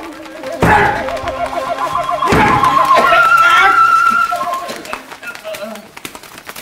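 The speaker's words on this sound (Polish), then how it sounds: "Twoje ptaki!" Birds, likely pigeons, flutter and coo in a Polish radio drama, mixed under voices and other effects in a busy, loud scene.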